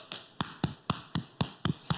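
Hands tap the chest in body percussion, eight sharp evenly spaced slaps at a steady rhythm, close and clear with no talking.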